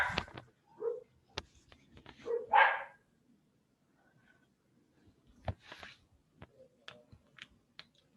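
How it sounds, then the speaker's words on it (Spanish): Dogs barking at cats passing on the sidewalk, a few short, scattered barks heard from a moderate distance, separated by quiet gaps and light clicks. "Ahí es cuando los gatos pasan por la vereda y mis perros se enojan."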